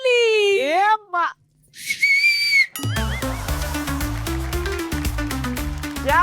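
A whistle blown to start a game on a Marathi television show gives sliding, wavering shrill notes, then a steady piercing tone of about a second, before music takes over.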